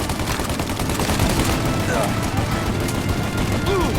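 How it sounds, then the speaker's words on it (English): Sustained gunfire in a Mafia: Definitive Edition shootout, a dense loud fusillade of rapid shots running continuously, with faint chirps mixed in. "Shoot out your gun when there's a break in the fire!"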